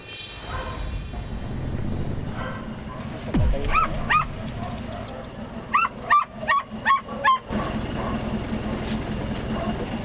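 Several distressed dogs rescued from illegal dog-meat trading yelp and whimper in short high bursts, with a few sharper barks, over a rumbling background of machinery and distant voices.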